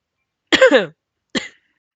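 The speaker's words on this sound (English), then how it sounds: "I just had a light coughing fit." Two short coughs close to the mic, a longer rough one followed by a brief second cough after a pause.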